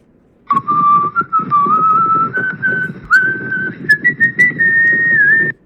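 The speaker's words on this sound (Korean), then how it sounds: "여기 설명을 보시면 whistling and wind blowing이라고 나와 있거든요" AI-generated whistling carries a steady, slowly rising melody over a continuous breathy rumble like wind blowing, running unbroken for about five seconds.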